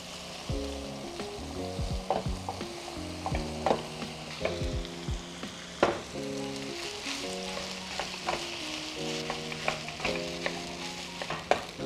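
Cold leftover rice is stir-fried in a hot pan for beef pares, with soft sizzling and repeated scraping strokes of a spatula under a light background of music.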